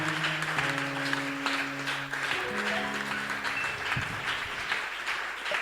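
A church congregation applauds the Lord in loud, steady clapping that fills the whole stretch, with sustained musical tones ringing underneath.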